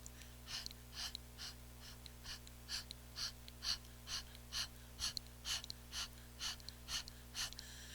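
Soft whispered 'ha' exhales during a yoga warm-up, repeated in a steady rhythm of about two breaths a second, close and breathy over a low constant hum.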